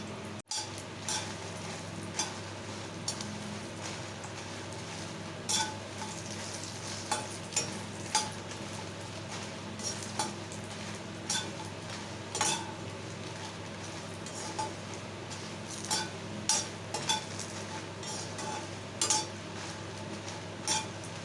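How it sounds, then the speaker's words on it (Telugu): Dried red chillies fry and are stirred in a pan while making idli powder, giving a steady soft sizzle with scattered light scrapes and clinks of a utensil against the metal, close and alone without talk. "కాస్త బాగా వేగేలాగా ఎండుమిర్చిని ఫస్ట్ వేసేసుకోండి"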